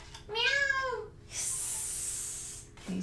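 A cat meows once, clearly and with a falling pitch, then a soft hissing noise follows.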